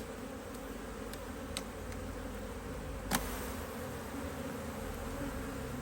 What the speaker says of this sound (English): Plenty of frames of bees in there.